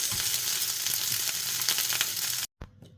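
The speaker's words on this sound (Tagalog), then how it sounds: "ito na yung mabilis nating pagluluto ng fried rice" Fried rice with garlic and onion frying in a pan, a steady close hiss of sizzling oil with faint scraping and stirring, cutting out abruptly near the end before a brief return.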